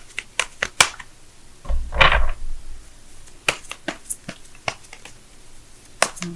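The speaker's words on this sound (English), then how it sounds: "let me go ahead and shuffle right fast" Tarot cards being shuffled quickly by hand, a series of sharp crisp snaps and riffles with one longer whooshing riffle, close and fairly loud with no talking.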